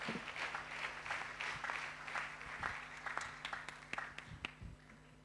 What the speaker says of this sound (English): Let's give all these precious people a great hand clap of appreciation.